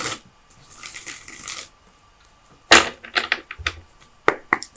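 Tarot cards shuffled by hand during a love reading, a long soft riffling burst followed after a pause by several sharp, close card slaps and flicks, with no talking.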